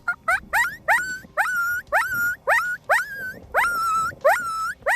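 A series of about a dozen high, wavering yelps and whines in quick succession, a voice imitating coyote and pup distress calls through a mouth diaphragm call, loud and close.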